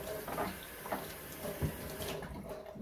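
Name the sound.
washing ginger under running water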